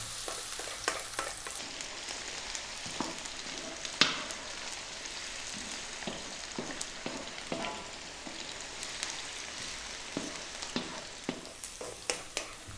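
Chopped garlic fries over high heat while being stirred constantly, giving a dense continuous crackle and sizzle with frequent close scrapes and knocks of a spatula on the pan, one louder clack, no voices.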